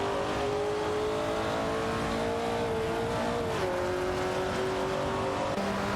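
Racing-game cars, including a Ferrari 365 GTB and a Bizzarini 5300 GT Strada, roar steadily with engine tones sliding in pitch as they accelerate and shift, a continuous loud drone throughout with no talk.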